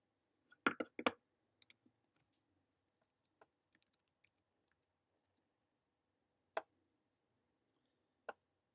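Sparse typing on a computer keyboard during a live stream: a quick burst of clicks, a scattering of lighter taps, then two isolated key presses, quiet and close with no talk.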